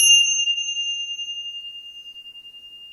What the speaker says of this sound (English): as this chime tolls, you are cleared of these densities